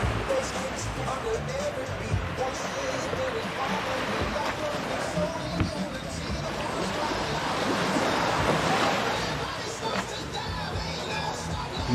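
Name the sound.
sea waves on Klong Chau Beach, Koh Kood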